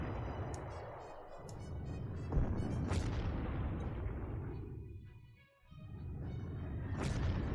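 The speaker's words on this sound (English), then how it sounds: "There is a lot of artillery coming my way." Artillery fire from the WWII strategy game Panzer Corps, a continuous rumbling wash of booms and explosions with a few sharper bursts, moderately quiet and dense throughout.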